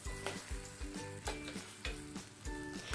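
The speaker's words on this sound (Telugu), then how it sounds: "వంకాయలు టమాటోలు ఇలా మగ్గించుకోండి." Brinjal pieces and tomatoes simmer and soften together in a pan for a curry, with a loud, continuous sizzle and rhythmic thumps and scrapes repeating every half second or so.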